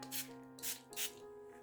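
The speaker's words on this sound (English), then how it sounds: "then I spray the card" A handheld spray bottle misting water onto a card panel for embossing, three short hissing pumps about half a second apart, close and clear over a steady faint background hum.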